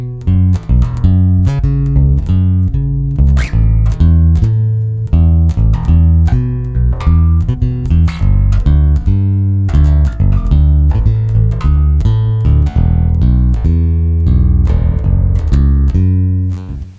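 A Michael Kelly Dragonfly 5-string acoustic bass, played through its Hi-Fi EQ setting, runs through a busy line of plucked notes, close and loud, with a deep rounded low end and no talking.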